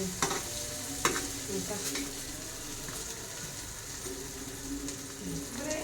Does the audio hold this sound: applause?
no